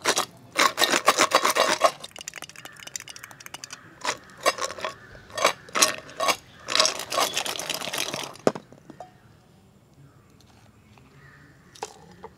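Nachos tossed with cheese powder and chilli powder, giving a dense run of rattling, scraping clinks from a bowl over the first eight seconds, then a few quieter isolated rustles.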